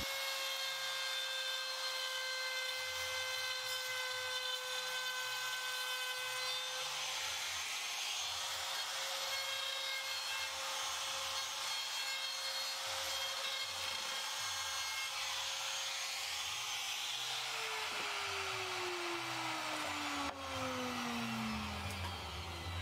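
A high-pitched wood trimmer router whines steadily, its tone dipping as it bites and cuts along a plywood edge, with continuous grinding and rasping throughout.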